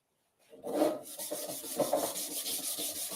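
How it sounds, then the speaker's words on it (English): Sandpaper rubs steadily against an auto body panel in a quiet workshop, a soft, close, continuous scratching that swells and eases with each stroke of the hand for about three seconds. "I'll just sand this down quick"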